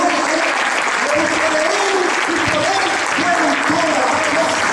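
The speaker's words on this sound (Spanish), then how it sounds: "¿Podemos dar un aplauso al Señor?" A church congregation applauds, dense sustained clapping filling the room at steady volume, with voices faintly woven through the clatter.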